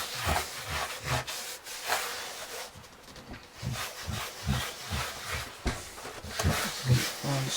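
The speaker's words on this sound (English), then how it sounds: "gently circular motions without roughing up the cork. Just smooth that down all the way over." A hand rubbing cork smooth in gentle circular motions, producing a soft continuous scuffing with rhythmic swells about once per second, close and fairly steady.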